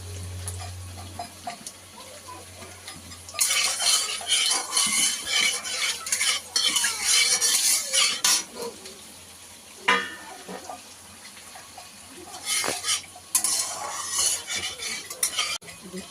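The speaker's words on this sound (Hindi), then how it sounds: "अभी फिश करी के लिए तेल गरम हो गया। इसमें थोड़ा से ये काली जीरा डाल दे रहा है।" Black cumin seeds hit hot oil for a Bengali-style fish curry, bursting into loud crackling sizzles alongside clinks of a stirring utensil, after a quiet start with a low hum.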